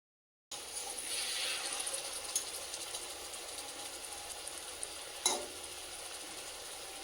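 Small mixed river fish wrapped as paturi cooking in a kadai over heat, giving a steady soft sizzle and hiss throughout with a brief louder crackle near the end, no one talking.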